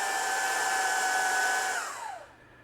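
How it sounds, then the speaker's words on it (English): A belt sander smooths a bandsawn tapered cut on wooden bench parts, running as a steady, bright, whining hum close by, then winding down and fading to silence in the final second. "I'm just using my belt sander."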